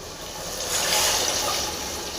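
Hot water is poured into a pot of chicken curry, a short, steady liquid splash and trickle heard up close.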